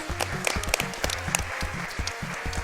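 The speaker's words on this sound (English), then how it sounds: "I would like everyone to give a round of applause to all these guys" An event audience claps in a brief burst of applause, a dense patter of many hands at moderate distance.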